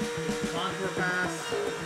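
A CNC machine cuts a contour pass on a homemade climbing hold, a steady close mechanical whine with rhythmic pulsing motor hum and cutting chatter throughout.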